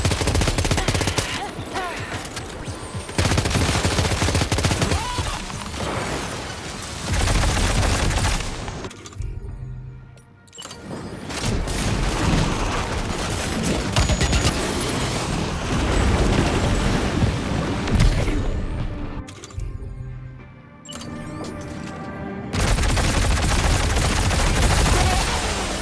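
Dense video game gunfire in Death Stranding 2 roars almost continuously, heavy bursts and rapid volleys layered with booming impacts, broken by a few brief lulls before resuming loudly.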